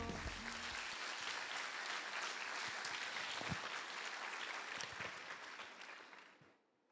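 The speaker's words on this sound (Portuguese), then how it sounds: "Aplaudir o Senhor" A church congregation applauds, with dense steady clapping at moderate level that fades out over the final second.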